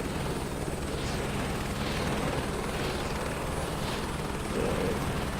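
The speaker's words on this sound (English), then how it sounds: "taxiing in a helicopter" Helicopter taxiing in Microsoft Flight Simulator 2024, a steady rotor whop and turbine whine holding even and loud throughout, heard alone without voices.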